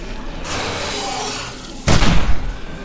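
A single loud gunshot in 7 Days to Die, fired as a headshot during a night zombie horde, hits as a sharp broadband blast and booming tail after a stretch of quieter game ambience.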